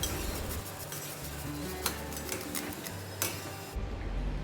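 A utensil stirs freshly grated garlic into a thick pakoda batter in a bowl, giving soft wet squelching strokes with sharp clicks against the bowl, close and steady, then stopping abruptly near the end.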